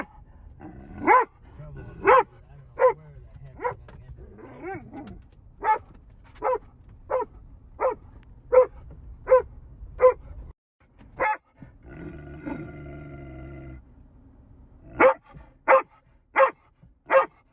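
A shop dog barks in a long series of sharp, evenly spaced barks, close and loud, with brief pauses and low grumbling between bursts.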